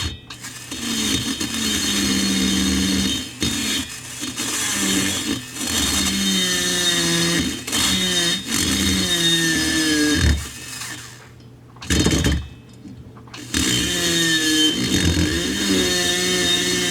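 A Husqvarna 350 chainsaw with a ported OEM 45mm cylinder runs loud and close with a steady buzzing drone. It revs up and down several times and briefly drops off near the end before picking back up.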